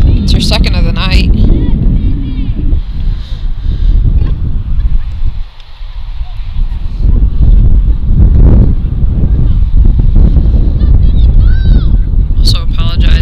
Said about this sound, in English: Also apologize if it's a bit windy, if you're picking up any of that.